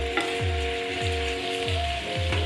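Honey soy sesame chicken fried rice sizzling in a pan as it is stirred, with loud, rhythmic scraping strokes repeating about every half second over a constant frying hiss.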